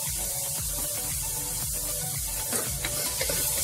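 Onion and ginger garlic paste sautéing in a pan for Tamil-style veg pulao give a steady, close sizzle with stirring scrapes throughout, a few sharper clinks near the end.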